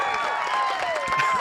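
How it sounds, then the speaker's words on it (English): A speedway crowd at Wiscasset Speedway cheers and claps for a race winner, a faint, steady roar of voices heard from a distance. "And the crowd goes wild."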